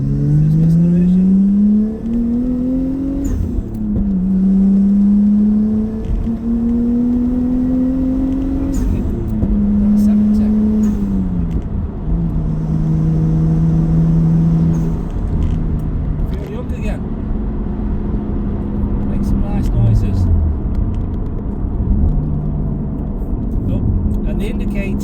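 A 1999 Nissan Skyline R34 GTT with a 2.5-litre single-turbo engine accelerates on a 70 mph road, engine note rising through several gear changes in a steady, loud interior drone while someone talks over it.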